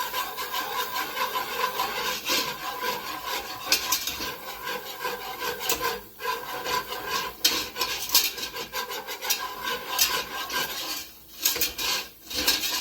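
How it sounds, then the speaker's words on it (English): A whisk blends butter in a pan, making continuous close scraping and rubbing against the metal with a steady rasping texture and a few short breaks. No one speaks. "I'm going to get my whisk so that I can blend it"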